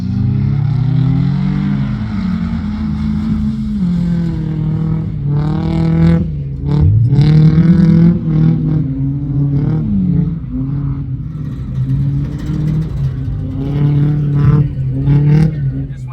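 A number 17 Mitsubishi Lancer rally car, a 2010 model, revs hard through a khanacross lap, its loud engine rising and falling between gear changes, with clattering and bumps from inside the car.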